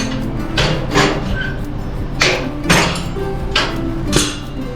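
A hammer pounding loose small pieces of weld holding a metal part, about six loud, ringing blows at uneven intervals over a steady background hum.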